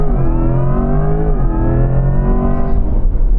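A Corvette launching hard from a standstill, its engine note climbing steadily and loud throughout, with harmonic revs rising then dipping briefly before pulling up again.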